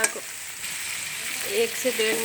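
Chicken, vegetables and macaroni fry in a pan with a steady sizzle and hiss, broken by a few scraping stirs of a utensil against the pan near the end.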